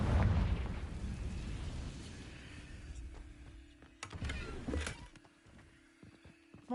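Fiery blast spell cast in Hogwarts Legacy, a loud explosive boom that rolls off, followed by smaller crackling bursts and a second sharp pop near the end.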